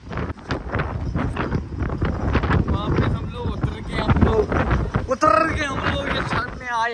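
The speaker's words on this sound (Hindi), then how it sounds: "ओए भाई बहुत ज्यादा तेज हवा चल रही थी।" Strong wind buffeting an outdoor microphone at a barbecue outing, loud rough gusts under people talking, with muffled rumbling bursts throughout.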